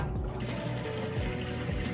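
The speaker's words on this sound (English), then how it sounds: "Okay, it's running the drain now. Draining that water out." Whirlpool Amana washing machine draining its wash water, a steady rushing, gurgling flow with a low pump hum, close and continuous with no talking.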